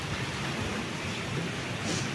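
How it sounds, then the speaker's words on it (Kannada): Heavy rain pours down in a steady, dense hiss that stays constant throughout, with a low rumble beneath it and no voices. "ಓಹೋ ಎಂಥ ಮಳೆ ಸಿಕ್ಕಾಪಟ್ಟಿ ಜೋರು ಮಳೆ ಬರ್ತಿ"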